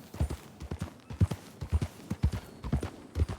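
Horses clip-clopping in a video game, steady repeated hoof beats at a trotting rhythm, fairly close and clear with no talking over them.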